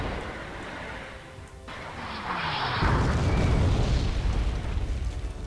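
Artillery shell firing and exploding in the video game Wargame AirLand Battle, with a sudden rising, sustained rumbling blast that swells loud and lingers as a heavy roar, no voices over it.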